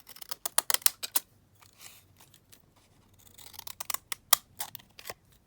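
Scissors trimming paper while making faux postage stamps, a run of sharp close snips in quick bursts, a pause, then another cluster of cuts.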